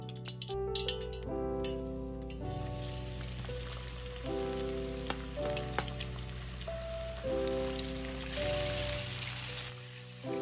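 Breaded, milk-marinated chicken deep frying in hot oil, giving a steady crackling sizzle beneath music with sustained tones.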